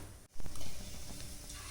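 Masala-coated mushrooms dropped into hot oil, giving a steady close sizzle and crackle of frying with a brief stirring burst near the start.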